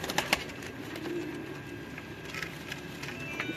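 Antique-breed pigeons in a Lahore loft coo softly in short, low repeated phrases over a steady hum of background noise, with a few sharper ticks near the start.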